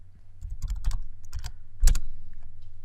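Computer keyboard typing HTML code, a few quick close clattering keystrokes in short irregular clusters with one heavier key press near the end, over a low steady hum.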